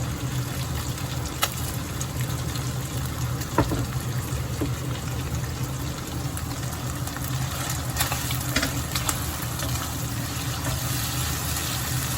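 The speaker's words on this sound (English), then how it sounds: "Fry like 1 minute" Pork and onions frying in a pan give a steady, even sizzle throughout, with occasional faint clinks over the hiss and no talking.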